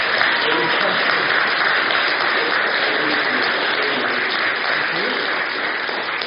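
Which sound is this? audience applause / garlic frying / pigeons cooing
audience applause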